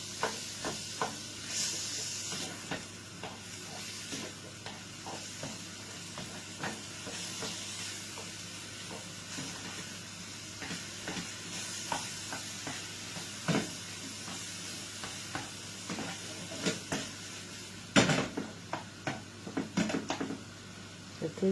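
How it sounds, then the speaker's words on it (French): Meat frying in oil in a pan, a steady close sizzle and hiss running throughout with occasional clinks and stirring taps, a louder flurry of scraping near the end. "suis en train de cuire ma viande."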